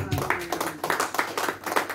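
A church congregation claps and cheers in a loud, steady burst of applause, with a voice carrying over the crowd.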